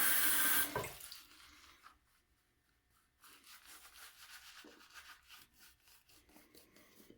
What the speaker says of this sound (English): Dipping the tips in water.